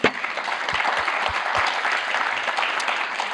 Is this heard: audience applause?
yes